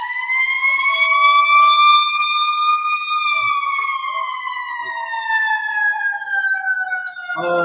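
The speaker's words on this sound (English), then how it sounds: "Sorry about the fire truck in the background, but as I told you, we are in downtown Long Beach." A fire truck siren wails outside on a downtown Long Beach street across from the fire station, loud and steady, with a long sweeping tone rising and then slowly falling as it passes.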